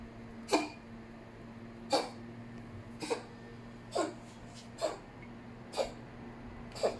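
A cat gives a series of short, sharp coughing bursts after drinking water and eating fish, about seven spaced hacks at roughly one-second intervals, close by over a steady low hum.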